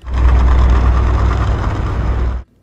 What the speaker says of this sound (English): Here's the noise signature of a diesel ship,